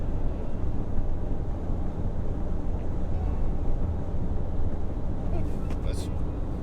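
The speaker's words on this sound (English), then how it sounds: "all I can hear now is wind noise" Steady broadband wind rush fills the cabin of a VW Tiguan 2.0 TSI while driving, loud and constant under a low road rumble, with a brief higher hiss near the end.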